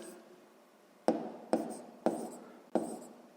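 Pen on paper writing figures of a calculation, four short sharp taps each followed by a brief scratch, spaced about half a second apart, close and quiet.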